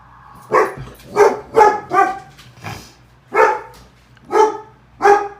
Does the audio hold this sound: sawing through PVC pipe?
no